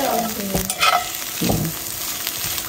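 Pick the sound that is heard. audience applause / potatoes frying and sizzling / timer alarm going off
potatoes frying and sizzling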